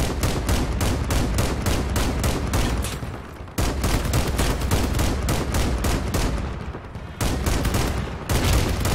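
Rapid, loud automatic gunfire from vehicle weapons in Crossout roars in dense bursts, with two brief pauses before the firing resumes.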